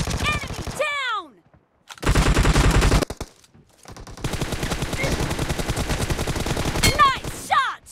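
Loud automatic gunfire bursts in BGMI team deathmatch, two long rapid strings of shots separated by brief silences, with short in-game voice callouts and whooshing effects at the edges.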